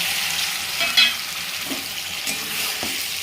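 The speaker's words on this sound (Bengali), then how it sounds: "এই পেস্টটা এবারে তেলের মধ্যে দিয়ে দিলাম।" A paste of coriander leaves, cumin powder and coriander powder sizzles and spits in hot oil, with a few soft scraping stirs in a pan; steady, close frying with no talking.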